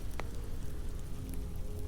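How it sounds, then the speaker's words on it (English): Steady rain patters on broad leaves overhead, a soft continuous hiss with scattered close drips, calm and unbroken, no voices. "as the rain brushes the broad leaves above you"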